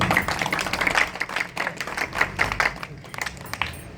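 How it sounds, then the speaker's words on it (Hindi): Audience at a poetry gathering claps in a quick, uneven burst of applause, fairly close, fading toward the end, with no talk over it. "तो एक दफ़ा खूबसूरत समातों के लिए भरपूर तालियां आप लोगों की।"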